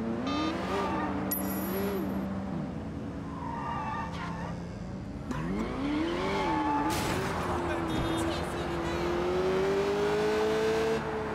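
Supercar from Sleeping Dogs driving with a steady engine drone that rises and falls in pitch as it revs, accompanied by light tire and road noise and faint background game sounds throughout.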